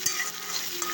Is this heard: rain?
no